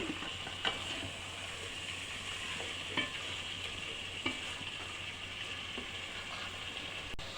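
Chicken pieces for biryani are stirred in a hot frying pan, a constant sizzle with soft scraping strokes returning about every second or so, close and moderately quiet, with no talking.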